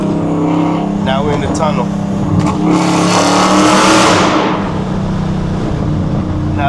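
A cammed Dodge Challenger R/T engine pulls hard under acceleration, loud and close with a rising roar as it passes through a tunnel, while someone talks over it.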